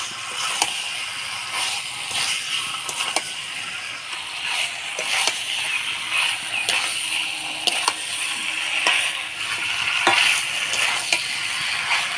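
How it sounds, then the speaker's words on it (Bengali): Desi rooster chicken pieces are stirred with yogurt and spice paste in a pan, giving a steady close sizzle broken by frequent scraping and clacking strokes of the spoon, with no voices. "মশলা দিয়ে মাংসটা ভালো করে নাড়াচাড়া করে নিলাম।"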